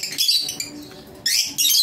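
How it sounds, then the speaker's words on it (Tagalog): A Cremino Opal SL pet bird gives bursts of high, bright chirping close by, with a quieter gap in between and soft background noise. "pangmalakasan nating ibon, Crimino Opa SL"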